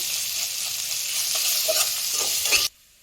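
Ginger sizzling in hot oil in a pan while being stirred, a steady loud frying hiss with scraping stir sounds that cuts off abruptly near the end.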